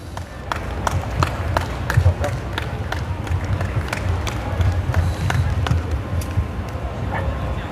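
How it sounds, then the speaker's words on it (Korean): At an outdoor political rally in Korea, scattered claps from the gathered crowd ring out irregularly over a constant low murmur of people and background noise, fairly loud and continuous. "이상로 박사님 나오실 때 환영의 박수로 여러분 함께 해주시길"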